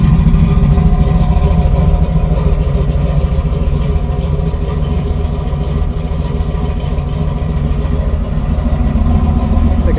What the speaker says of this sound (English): It's got a little bit of burble, a little bit of rumble, but you know, not as bad as a lot of cams would be.